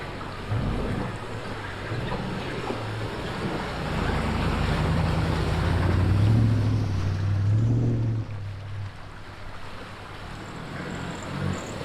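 Vehicles drive through a small creek crossing on the way to a mountain river camp, with a low engine drone under steady rushing and splashing water that builds, peaks midway, then eases off. No one talks.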